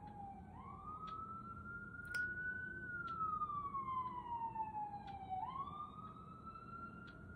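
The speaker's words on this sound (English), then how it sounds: "Okay, the sirens are gone now." Emergency vehicle siren heard from a distance, a faint wailing tone that rises and falls in slow sweeps over low background rumble, continuing throughout.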